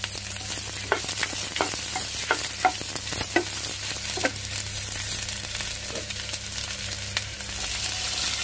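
Onion, garlic and Byadagi chilies frying in a pan, with a steady oil sizzle and a series of sharp spatula scrapes and taps at irregular intervals, heard up close.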